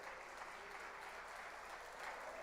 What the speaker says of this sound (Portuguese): Aplauda e glorifique a Jesus.